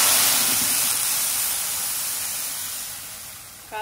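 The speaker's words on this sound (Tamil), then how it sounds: "எண்ணெய் சூடானதும் இதில் கடுகு, ஜீரகம், 4 வத்தல், கொஞ்சம் பெருங்காயப்பொடி, கொஞ்சம் கருவேப்பிலை போட்டு அடுப்பு ஆஃப் பண்ணிடுங்க" Mustard seeds, cumin, dried chillies, asafoetida and curry leaves sizzle in hot oil for a buttermilk okra curry tempering, a steady close hiss that slowly fades as the stove is turned off, with a brief clatter at the end.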